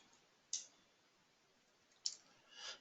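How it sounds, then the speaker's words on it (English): Two separate, crisp computer mouse clicks land a little over a second apart while selecting a button, set against near silence. A soft rustle follows at the end. "click on next button"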